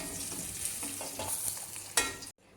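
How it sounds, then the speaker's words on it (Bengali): Fish fries in hot oil in a pan for a home-style Bengali fish kalia, a steady close sizzle with brief crackles and a stirring scrape before it cuts off. "মাছটাকে খুব ভালো করে টান টান করে ভেজে নিতে হয়, নাহলে মাছের স্বাদ আসে না"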